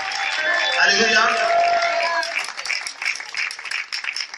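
A church congregation at a night worship service claps and cheers for Jesus, a dense sustained roar of applause and voices that thins into scattered clapping and shouts toward the end.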